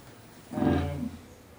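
A single deep lion roar swells up, holds for about half a second, and trails off, with no other sounds around it.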